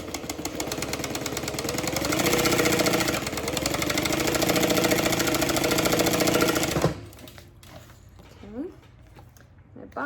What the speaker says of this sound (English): My bobbin, I hear it spinning.